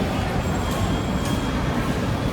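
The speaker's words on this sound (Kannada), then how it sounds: "This is the metro station." Steady low rumble of a metro train at a station, a continuous loud drone of wheels and carriage noise with faint high squeals, heard alone without talk.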